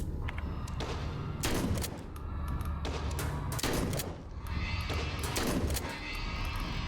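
Heavy gunfire from the 2022 PC survival-horror game SIGNALIS, several loud blasts at roughly one-second intervals over a dense, rumbling backdrop, close and forceful with no talking.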